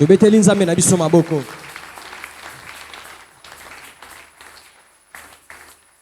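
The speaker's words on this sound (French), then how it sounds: "Acclamons pour notre Dieu." A church congregation breaks into applause just after a voice finishes speaking, the clapping spreading as a diffuse, moderately loud wash that slowly thins and fades, with a few brief swells near the end.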